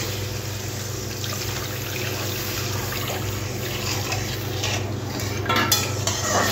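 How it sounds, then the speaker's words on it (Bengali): Coconut milk goes into cooked masala in a pan and is stirred, a wet scraping and slosh over a low steady sizzle, near and continuous with a few clinks toward the end, no talking. "এরপরে দিয়ে দেবো নারকেলের দুধ।"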